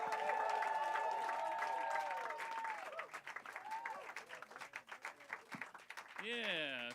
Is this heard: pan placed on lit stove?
no